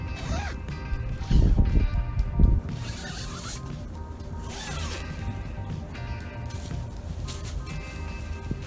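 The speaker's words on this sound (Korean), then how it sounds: "메쉬창은 지퍼 3개로 열 수 있습니다." A zipper being drawn to open a tent's mesh window, with a loud ripping pull, a brief pause, then longer steady zipping runs close by.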